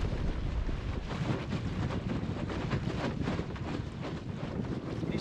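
Steady wind roars and buffets across the microphone aboard a small cartopper sailboat out on the water, loud and continuous with no voices.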